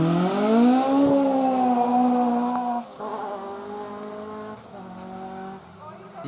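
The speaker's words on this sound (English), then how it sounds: "we're just bringing you a bit of live action and atmosphere as you see Steve Hartness in the BMW E30 M3." A BMW E30 M3 rally car at the Historic Rally Festival revs hard in a loud, sustained engine note that drops and rises through gear changes. A commentator talks over it.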